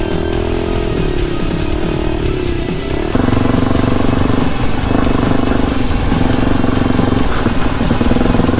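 Suzuki DRZ dirt bike engine running close and loud with a steady droning hum, its pitch shifting slightly and then holding firm after a few seconds.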